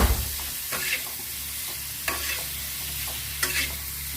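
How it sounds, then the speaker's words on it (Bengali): Paneer seasoned with salt and pepper frying in a pan, a constant hissing sizzle broken by a few sharp spatula scrapes and taps spaced about a second apart, with no talking. "অনেকটা ফ্রাই করে নেব।"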